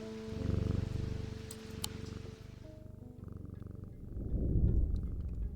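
A cat purrs in the video game Strange Antiquities, a low rhythmic rumbling purr that fades and then swells again close up, with no talking.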